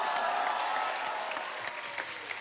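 Studio audience applause on a comedy talk show, a continuous wash of clapping heard at moderate distance and fairly quiet, holding steady throughout the short stretch.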